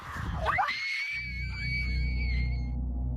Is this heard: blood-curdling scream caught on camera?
yes